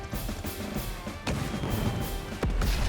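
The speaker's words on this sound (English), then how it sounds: "So yeah, you move in and you instantly explode" A unit exploding in the Advance Wars video game, heard as a series of loud crashing booms and thuds over a constant game soundscape.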